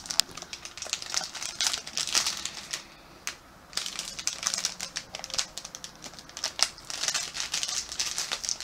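Crinkly plastic bag of cotton candy being pulled and torn open, a steady run of close, bright crackling with a brief quiet pause midway, no voices.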